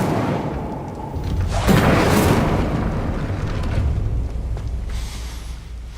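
The Incendio fire spell in Hogwarts Legacy: a sudden loud fiery whoosh and rumbling burst that swells and then trails off into a sustained low roar.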